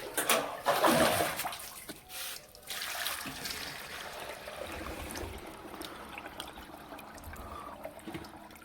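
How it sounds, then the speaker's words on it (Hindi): Water gushes and trickles into a large household storage tank at home, loud and splashy at first, then settling into a steady running pour. "अब हम यहां से भरेंगे पानी, जो किचन में लेके जाएंगे।"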